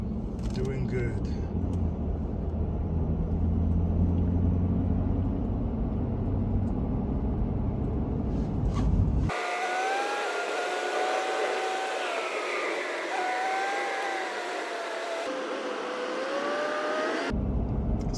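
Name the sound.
super duty pickup truck driving on a mountain canyon road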